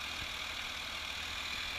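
The 3.8 liter V6 of a 2011 Jeep Wrangler idles under an open hood, a faint, steady low rumble with a constant hiss and no voices.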